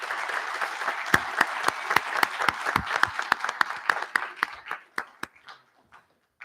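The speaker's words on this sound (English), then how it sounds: "How about a nice round of applause for them?" Applause from a board of education meeting audience: steady crowd clapping with sharp individual claps standing out, thinning gradually and ending in a few final hand claps.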